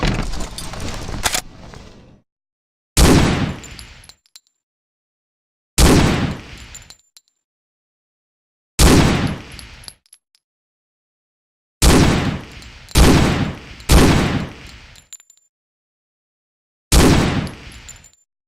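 Gunfire during weapons training in Hidden & Dangerous 2, eight loud isolated shots, each a sharp crack with a short ringing decay, spaced irregularly with silence between, some coming in quick pairs, and no talk.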